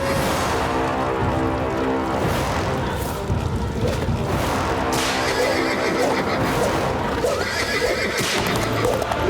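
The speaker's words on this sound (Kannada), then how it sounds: "ಇದ್ದಕ್ಕಿದ್ದಂತೆ ಕುದುರೆ ಓಡ್ತಿರೋ ಶಬ್ದ ಎಲ್ಲಿಂದ ಬರ್ತಿದೆ?" A horse gallops with rapid clip-clop hoofbeats and loud whinnies along a nearby street at night, filling the scene with a dense, continuous clatter.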